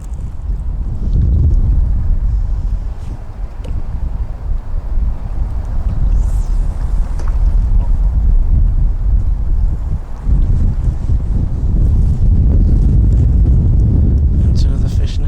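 Strong wind buffets the microphone continuously while fishing from a bank in winter, a loud low roaring rumble that swells and dips throughout, with faint higher rustles on top.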